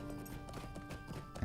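Quick rhythmic hoofbeats of a horse galloping in a video game, moderately loud and steady over a short stretch, with a faint voice underneath.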